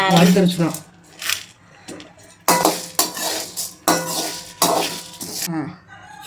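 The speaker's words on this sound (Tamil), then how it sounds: "எண்ணெய் இதுக்கு ஊற்றக்கூடாது வெறும் சட்டியில் தாங்க வறுத்து எடுத்துக்கணும்" Spices such as pepper and cumin dry-roasted in an oil-free pan, with repeated scraping and clinking of a metal spoon against the pan, heard close up in bursts between stretches of talking.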